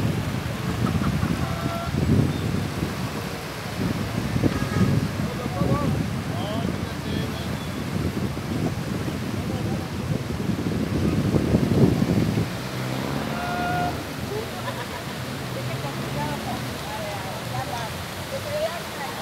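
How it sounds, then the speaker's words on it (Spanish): Strong sea wind buffets the microphone at Villa del Mar beach in Veracruz, Mexico, with surf rushing and breaking underneath in a continuous loud, gusty roar. "es inevitable el viento en el mar"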